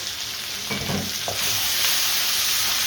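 Ginger, garlic and green chilies sizzle steadily in a hot pan for a British Indian restaurant beef jalfrezi, a close, continuous frying hiss with a brief stirring clatter partway through, growing slightly louder, no voices.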